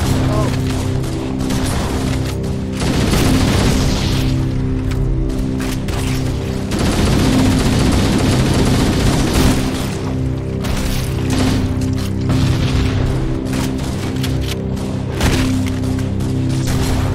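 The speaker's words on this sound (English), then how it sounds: "Shotgun." Shotgun blasts from the video game Halo: Combat Evolved ring out amid loud, dense, continuous battle noise, with heavy booms piling up without a break.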